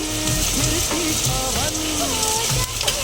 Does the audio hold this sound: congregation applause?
no